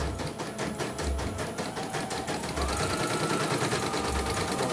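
An embroidery machine runs steadily with fast, repetitive stitching clatter, loud and close throughout with no voices over it.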